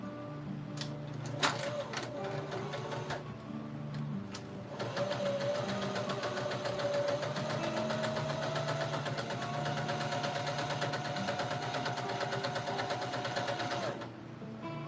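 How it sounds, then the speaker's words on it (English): A sewing machine stitches doll bodies, starting with a few short bursts and then settling into a long, even run of rapid needle clatter with a steady motor whine, close by, before stopping near the end. "So I sew on the sewing machine and put the bodies together"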